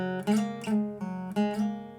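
Guitar playing an opening lick slowly, four distinct picked notes with slides and pull-offs, each ringing into the next, close and unaccompanied.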